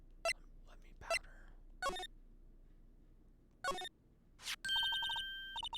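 A telephone rings in the Phoenix Wright: Ace Attorney video game, with several short bursts of trilling electronic ring tones spaced through the clip and a sustained beeping tone near the end, all fairly loud and clear.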